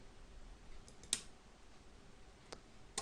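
Three faint, sharp clicks from a computer mouse in configuration software for a STR2DO08 DIN RS-485 controller, spaced irregularly over a quiet background.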